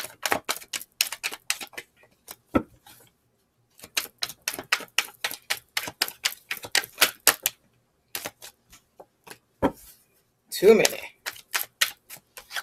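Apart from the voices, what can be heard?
tarot cards being shuffled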